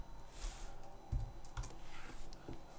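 Soft, scattered clicks of typing on a computer keyboard while a new script is named, quiet and uneven keystrokes with a few louder taps over faint room noise.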